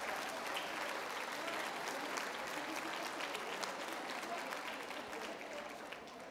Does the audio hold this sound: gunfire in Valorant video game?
no